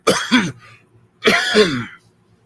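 Two harsh, raspy coughs, each a quick double burst, separated by about a second of quiet; close and fairly loud.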